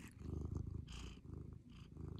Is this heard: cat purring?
yes